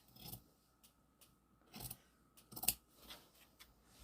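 Scissors snip through patchwork fabric in a handful of separate, fairly quiet cuts spread unevenly across a few seconds, each a short crisp burst with pauses between, and no voices.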